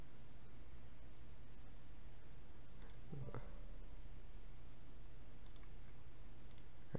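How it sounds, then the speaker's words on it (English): Computer mouse clicks on a PC, heard as a few faint, isolated clicks spaced seconds apart over a steady low background hum. "just click on it, right click and click open"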